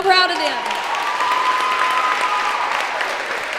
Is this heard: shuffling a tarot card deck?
no